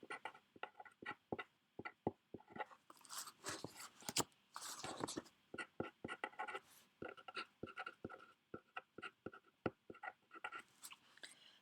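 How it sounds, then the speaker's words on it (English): Pen writing on paper, close and quiet, with quick scratchy strokes in irregular bursts and short pauses between words. "I'll write it out myself so I know how long it might take."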